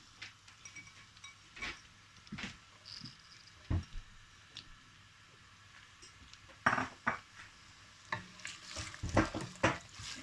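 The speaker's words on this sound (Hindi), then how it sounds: "ऑयल हमारा गर्म हो गया। अब इसमें ये ओनियन डालेंगे।" Onions go into hot oil in a pan, followed by kitchen clatter of a spoon and pan with intermittent stirring and scraping. Soft sizzling runs quietly underneath, close by, with no one talking.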